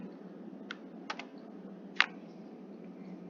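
Keys on a computer keyboard are tapped a few times at a spreadsheet, then a sharper, louder press of Enter, close and isolated over a steady low hum.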